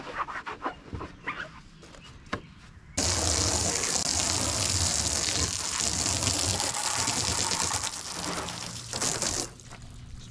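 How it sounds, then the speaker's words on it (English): Water gushes steadily for several seconds as the inside of a car windshield is washed, a loud close spray that starts abruptly and then tapers off, preceded by some light handling clatter. "I'm actually going to wash the inside of my windshield"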